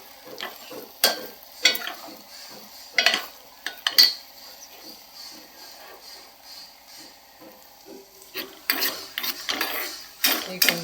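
A spoon stirs sweet pongal frying in a pan, clinking and scraping against the metal in irregular strokes over a soft, constant sizzle.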